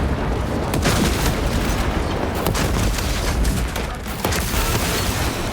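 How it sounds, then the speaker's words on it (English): Krak grenade blast and heavy gunfire in Space Marine 2, a loud, dense wall of booms and rapid shots with sharp bursts spread across a few seconds of chaotic combat noise. "Using crack grenade."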